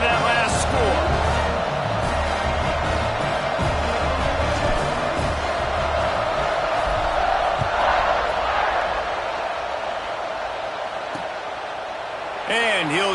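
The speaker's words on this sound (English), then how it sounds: "this crowd is buzzing after that last score" A dense stadium crowd in a college football video game featuring Michigan State keeps up a constant loud buzz and roar, a steady wall of noise with occasional sharper swells and no quiet gaps.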